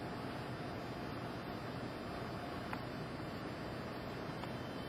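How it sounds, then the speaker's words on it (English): Big waterfall pouring near a boat at anchor on the way to Alaska from Prince Rupert, BC, heard as a constant, broad rushing roar of falling water, steady and enveloping with no breaks. "Around here there's a big old waterfall coming in."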